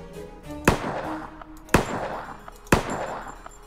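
Three sharp, loud single gunshots ring out at roughly one-second intervals in a video game, each with a metallic clang and short decay over a low ambient hum.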